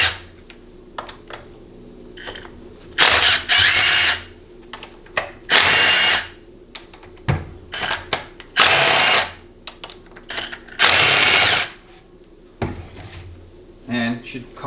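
A power tool loosens transmission bolts on a 6L80 automatic during a teardown, firing in several loud, close bursts of a second or so each, separated by clinks of parts and tools.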